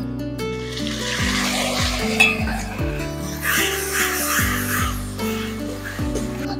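Onion paste frying in oil with fried fish and black cumin, a steady hiss and sizzle under repeated clinks and scrapes of a utensil stirring in the pan, fairly close, with no voices.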